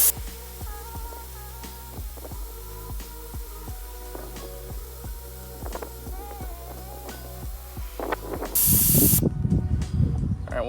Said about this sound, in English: you want to take a screwdriver, you want to press that in, and that will release the air from